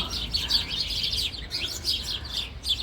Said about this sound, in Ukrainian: там пташки. Ви чуєте?